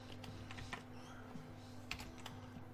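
Soft, irregular key clicks from a faulty computer keyboard are typed in quick scattered bursts, faint and close against a steady electrical hum, with no talking.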